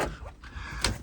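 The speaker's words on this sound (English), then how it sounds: "I'm going to unlatch the top here" Convertible top latch on a 1966 Ford Thunderbird being released, a short metallic clunk and rattle close by, followed by a sharper click near the end.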